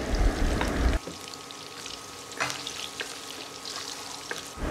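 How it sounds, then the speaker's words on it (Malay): Garlic and ginger sauté in hot oil while cooking fried fish in tamarind sauce, a moderate crackling sizzle with occasional spatula scrapes and stirring clicks, louder at first and then settling into a softer, steady frying hiss. "mula kita tumis dulu bahan-bahan ni, bawang putih dan juga halia."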